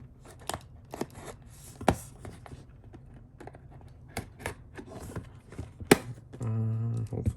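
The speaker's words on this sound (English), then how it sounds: "Let me grab my little knife so I can hopefully cut this" A small knife cuts open the packaging of a Cirtek 100W fast charger box, heard as scattered sharp snips, scrapes and taps close by, ending with a short buzzy rasp.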